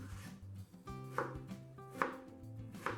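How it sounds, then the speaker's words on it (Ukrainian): Knife chopping an eggplant into large cubes on a cutting board, a few distinct firm thuds spaced irregularly, close up, with a faint musical tone underneath. "В першу чергу на великі кубики нарізаємо один баклажан."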